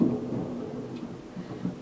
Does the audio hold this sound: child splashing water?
no